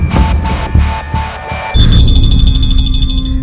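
Telephone ringing in a police office: a warbling ring sounds in five short repeated bursts, then shifts into a sustained electronic tone over a music-like backdrop, loud and close with no talking.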